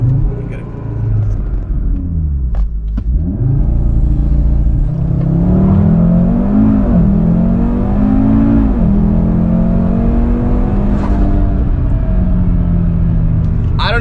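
A 2019 Audi RS3 accelerates hard from a standstill in a 0 to 60 run, its engine note rising in a loud, close rumbling surge through gear changes, heard from inside the car with faint voices.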